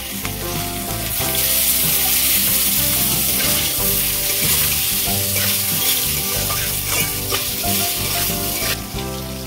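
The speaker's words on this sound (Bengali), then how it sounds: "তেলের মধ্যে আলুগুলো ভেজে নেব।" Potatoes fry in hot oil with a loud, continuous crackling sizzle and occasional stirring, set against a melodic music bed throughout.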